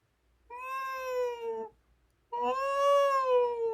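A human voice imitates a cat, giving two drawn-out, nasal meows with a short pause between them, close and fairly loud.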